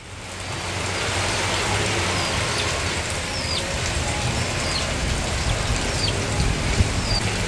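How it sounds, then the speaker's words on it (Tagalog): Steady, dense rainfall hisses across the whole stretch, loud and close, with a few faint bird chirps poking through in the distance. "Lakas po ng ulan"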